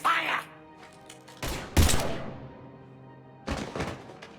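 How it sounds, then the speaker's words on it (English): A Mass Effect 3 battle erupts in heavy gunfire, with several loud thumping shots and short bursts separated by brief gaps, and muffled voices underneath. "Now open fire!"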